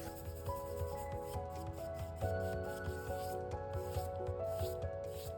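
A firm-bristled brush sweeps excess imitation gold leaf off painted book-page frames, giving steady close scratchy rubbing strokes with faint tonal music underneath.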